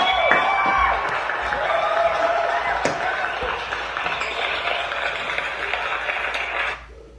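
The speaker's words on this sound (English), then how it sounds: "please give me a round of applause" Audience applauding a South African guest speaker as he is introduced, a dense sustained wash of clapping that holds steady for several seconds before cutting off abruptly near the end.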